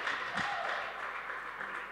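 A church congregation applauding, a soft, even wash of many hands clapping heard at a distance for a couple of seconds.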